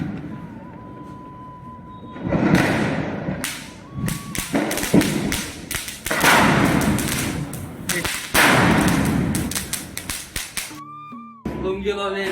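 Diwali firecrackers bursting outdoors, a run of sharp loud bangs and crackling pops coming in quick irregular bursts, with people talking and shouting between and under the blasts.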